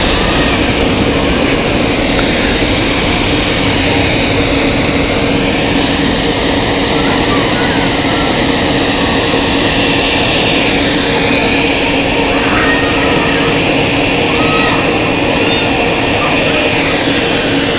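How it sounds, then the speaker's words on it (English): An Edelweiss Airbus A340 jet takes off at Zurich Airport, its engines a loud, steady broadband roar that holds for the whole stretch, with faint voices in the background. "A340 heading off to Vancouver."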